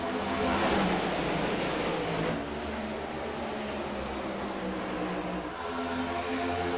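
Race cars in the eNASCAR iRacing series at Daytona surge away at the green flag, a loud, dense roar of many engines revving together, steady and close throughout.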